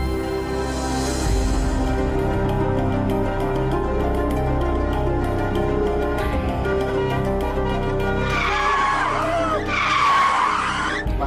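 A car speeding along a road, its engine droning loudly and continuously, then tires squealing in two long screeching skids near the end, close and prominent over a busy background.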